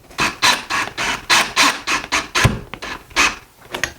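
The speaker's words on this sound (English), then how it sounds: "now we'll tighten up the second screw up on top" Screwdriver turning a bracket screw for window blinds, mounted up top at a window, giving repeated short rasping, rubbing twists in a steady rhythm, close and fairly loud with no talk.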